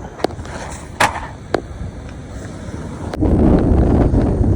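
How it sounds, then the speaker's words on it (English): Wind on a cold outdoor morning buffets the microphone with low rumbling gusts and a few sharp knocks, growing into a stronger, steady roar near the end. "The wind's still blowing a steady 10 miles an hour"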